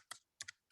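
A few quick clicks of keyboard typing, two short bursts close together, quiet and up close.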